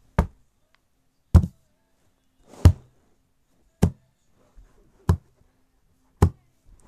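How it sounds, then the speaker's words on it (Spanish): Footsteps in the Shin Sonic horror video game: six heavy, evenly spaced thuds land about a second apart, loud and distinct against near silence. "Porque se escuchan pasos."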